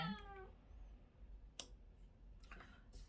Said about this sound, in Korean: 지금 저희 집 고양이가 안 놀아준다고 울기 시작했습니다.